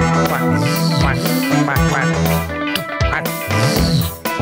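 Repeated duck-like quacks come in quick succession over loud, busy music with a warped, effected tone.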